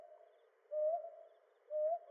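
Andaman hawk owl, a nocturnal species of island plantations and forest edges, giving two soft, clear hoots about a second apart, close and alone against a quiet background.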